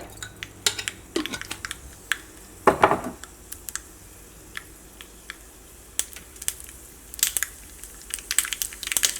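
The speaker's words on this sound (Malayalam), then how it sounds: "നമ്മുടെ കടുക് പൊട്ടി തുടങ്ങിയിട്ടുണ്ട്." Half a teaspoon of mustard seeds pop and crackle in hot coconut oil, scattered sharp snaps at irregular intervals, with one louder burst of sizzle near the start.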